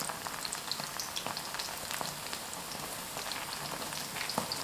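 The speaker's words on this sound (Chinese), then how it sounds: "油热后放入麻花。" Hand-made dough twists deep-fry in hot oil, a soft steady crackling sizzle with scattered small pops, fairly quiet and close, with no voices.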